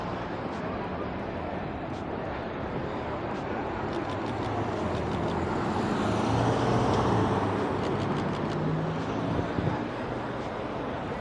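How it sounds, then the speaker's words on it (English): Porsche car rounding a corner on a Brisbane city street, a steady engine and tyre drone mixed into dense traffic and urban noise, swelling slightly as it passes nearby, with faint ticking clicks scattered throughout. "Come on, turn the corner, Porsche."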